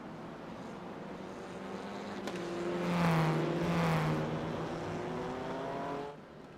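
BMW race cars in the iRacing sim roar past, the engine note building to a peak and fading away over a few seconds, with no talking.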